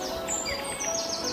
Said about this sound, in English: it is named after soft resonant song or cry of the bird hoo hoo hoo